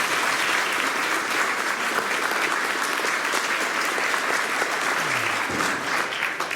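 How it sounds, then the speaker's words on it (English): A church audience gives a round of applause at a 250th anniversary presentation, a steady wash of many hands clapping that holds evenly throughout, with faint voices beneath. "Please give the church a round of applause at this time."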